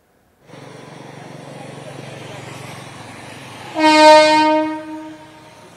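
A Mumbai local train bound for Panvel from the Kurla side rumbles steadily through a railway station, then sounds a loud, sustained horn blast near the end.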